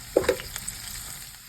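Okra sizzling in oil with turmeric powder in a pan, a low frying hiss broken by a few quick metallic scrapes and taps of stirring up close.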